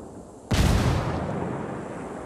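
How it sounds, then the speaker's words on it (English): A flashbang grenade goes off in Ghost Recon Wildlands: one sudden, loud, broadband blast that hits all at once, then a long rumbling decay fading slowly over the next two seconds. "Tossing in a flashbang."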